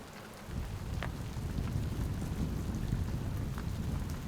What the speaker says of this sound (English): I don't think it's going to stop raining at all